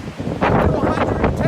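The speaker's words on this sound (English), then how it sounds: "lo and behold, we had a massive windstorm" Strong gusting wind buffets a microphone beside a tent at a campsite during a massive windstorm, roaring steadily with louder surges, and a voice seems to be talking underneath.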